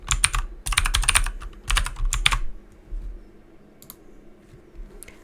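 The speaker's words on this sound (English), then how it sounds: "authentication is required, so I'll enter Ransley's password" Close, quick typing on a computer keyboard in bursts of rapid key clicks, then a pause and a few isolated taps as a password is entered during a software install.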